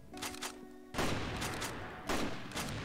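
Gunfire in the online shooter game CrossFire: two sharp, loud shot bursts about a second apart, each followed by a lingering rattle and echo.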